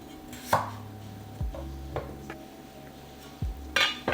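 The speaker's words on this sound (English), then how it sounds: "Cut the potatoes." A knife cuts potatoes on a cutting board in a few separate, close chops with solid thuds and a clatter, spaced irregularly over a faint background hum with no talking.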